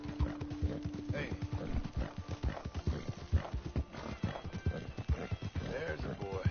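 Horse hooves clip-clop steadily in Red Dead Redemption II, with a neigh or whinny partway through, all heard under a man's near, continuous talking.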